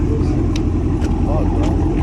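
Cadillac CT5-V Blackwing engine rumbles deep and steady at a modded car show in Detroit, a loud continuous low drone with voices talking over it.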